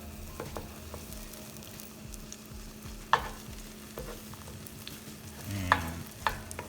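Chorizo spread in a pan toasting and frying, a quiet low sizzle under a steady hum, with a few sharp clinks and scrapes from a utensil scattered through it.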